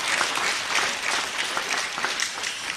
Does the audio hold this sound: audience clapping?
yes